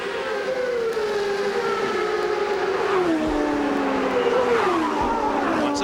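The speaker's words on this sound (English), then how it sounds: "Safety truck coming on to the racetrack." Wailing siren of an IndyCar safety truck entering the track at a wet 1997 Portland CART race, a rising and falling tone held steadily over loud race-car engine roar, with no talk.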